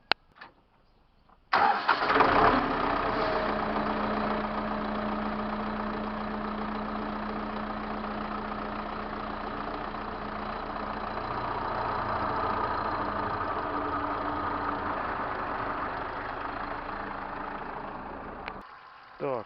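An MTZ-82 tractor engine cranks and catches after a brief silence following repair, then settles into a steady, rumbling idle that runs nearly twenty seconds before cutting off.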